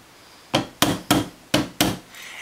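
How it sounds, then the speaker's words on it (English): A hammer taps a scout mount into the rear sight pocket of a rifle with five sharp, evenly spaced knocks, close and clear, with no talk. "this is where your hammer comes in handy. Give it a few little love taps"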